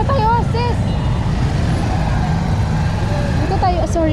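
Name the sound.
street traffic beside the road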